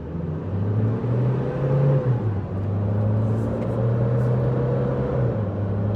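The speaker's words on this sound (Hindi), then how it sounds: "डी पे डाल दी गाड़ी और लेट्स गो" A Toyota Fortuner Legender 4x4 pulls away in drive, its engine a steady, close, rumbling drone that rises gently in pitch as it gathers speed, heard from inside with no talk.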